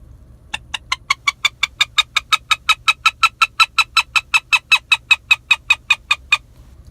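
A wood duck call imitated on a hand-blown duck call: a steady run of about thirty short, evenly spaced squealing peeps, close and loud, with no voices.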